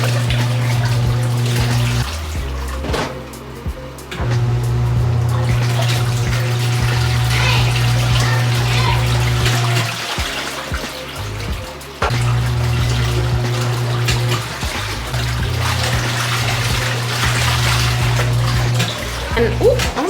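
An Auertech portable washing machine sloshing water and clothes back and forth, its motor humming in long steady cycles broken by brief pauses and reversals, loud and close throughout.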